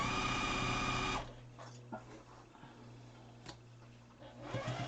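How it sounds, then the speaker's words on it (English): Sewing machine stitching over a mask's nose wire, a steady mechanical whir starting loud and close, then stopping abruptly after about a second, leaving faint room noise. "now I'm sewing. I'm sewing over top where my wire is"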